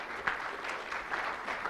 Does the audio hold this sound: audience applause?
yes